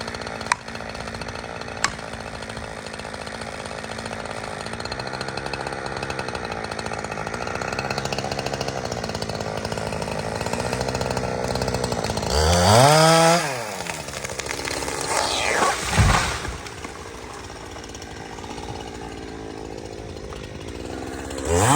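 Chainsaw cutting up a tree, running loud and close for over twenty seconds with a steady drone, revving up and down in the middle, no talk.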